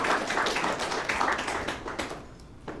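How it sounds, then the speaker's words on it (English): Scattered audience clapping at a San Francisco Selenium tech meetup, a loose patter of claps that thins out and fades toward the end, moderately close with no talk over it. "Oh, we can do clapping now."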